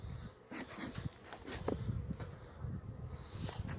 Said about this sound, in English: looks like we got a whole bunch of guard bees